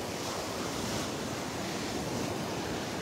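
Ocean waves breaking steadily on the beach at Delnor-Wiggins Pass State Park in North Naples, Florida, a continuous broad surf roar with a light breeze, no voices.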